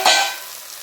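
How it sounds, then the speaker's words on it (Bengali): Chicken pieces drop into a pan of hot fried spice paste for chicken curry, producing a sudden loud sizzling burst that settles into a steady frying hiss over just under a second. "এখন আমি মাংসটা দিয়ে দিচ্ছি।"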